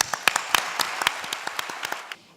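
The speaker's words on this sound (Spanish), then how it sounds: "de nosotros para ustedes un aplauso" A small audience at a talk on emergency communication claps in sparse, distinct individual claps that thin out and stop after about two seconds, close and moderately loud.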